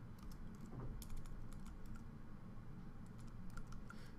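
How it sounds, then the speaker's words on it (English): Computer keyboard typing during iOS coding work, a quiet run of light irregular key clicks close by, alone without talk. "I can type."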